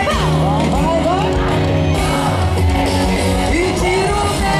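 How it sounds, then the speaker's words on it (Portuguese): A concert crowd at a show in Itararé, Brazil, shouting and singing along loudly and continuously, with yells and whoops mixed into dense music. "eu quero que vocês gritem no leva!"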